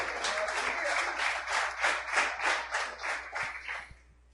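Sustained applause from a church congregation during a sermon, steady rhythmic clapping that swells in pulses before fading out near the end.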